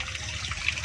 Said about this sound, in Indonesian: Jadi airnya sirkulasi airnya berjalan terus guys.